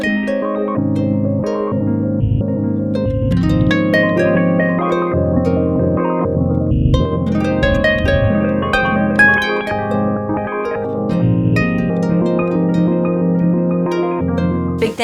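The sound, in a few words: synthesizer module playing arpeggiated sounds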